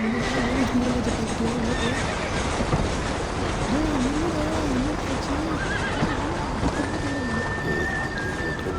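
A horse in the video game Red Dead Redemption neighs several times with a wavering whinny while galloping hooves and a steady rumble of movement run underneath, loud and close throughout.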